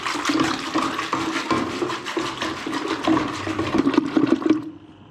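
A small hand churner (madhani) swirls yogurt with warm water, making a continuous sloshing, frothy liquid churning close up that builds slightly, then stops abruptly near the end.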